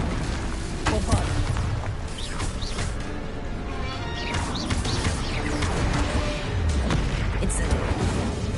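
Bombarda blasting spells from Hogwarts Legacy burst repeatedly as loud crashing explosions with smashing debris, spread unevenly over several seconds, alongside game voices.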